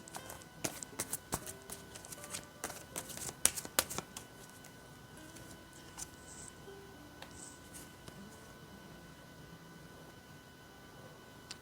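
Tarot cards being shuffled and drawn on a table, a cluster of crisp riffling taps and snaps early on, then sparse soft card clicks, close and quiet over faint background music.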